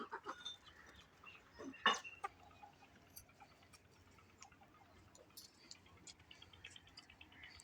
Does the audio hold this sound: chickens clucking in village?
yes